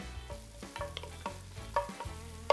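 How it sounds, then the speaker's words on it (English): Finely chopped onions with added herbs sizzle in a pan as the base for lobster bisque, a close steady frying hiss broken by several stirring taps and scrapes. "We're gonna add some herbs to my onions."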